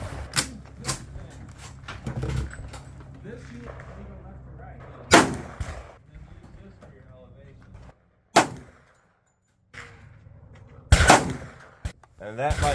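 A CMMG Banshee 10mm fires Extreme Defender rounds as loud, sharp reports spaced a few seconds apart, each cracking out against the outdoor range air with brief echoing tails and soft handling noise between them.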